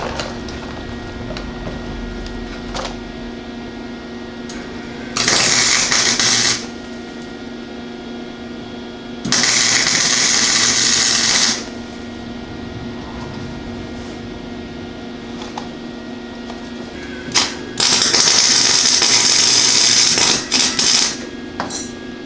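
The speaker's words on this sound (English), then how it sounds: "See if I can't get this welded the rest of the way on there." Small pod light mounts are welded onto a light bar on a lifted Honda Civic. Three loud, steady bursts of hissing, crackling welding, each lasting a few seconds, are separated by quieter stretches of background hum.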